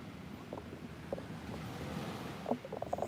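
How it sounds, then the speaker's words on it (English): Ocean waves wash onto Patong Beach in Phuket, Thailand, a soft broadband surf rush mixed with wind buffeting the microphone, fairly faint and steady, with a few brief louder splashes near the end. "The sound of waves."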